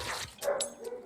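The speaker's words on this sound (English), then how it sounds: "sorry for the barking" A dog yips and whimpers a few times in short, high bursts, fairly close, with a faint murmur of background noise.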